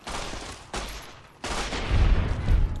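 Rapid bursts of gunfire in Fallout New Vegas, loud and close, coming in several volleys with short gaps and a heavy low-end rumble building toward the end.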